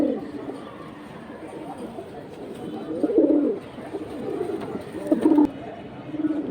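Military-breed pigeons in a breeder's collection give low, throaty coos and murmurs close by, with louder bursts now and then. Someone talks throughout.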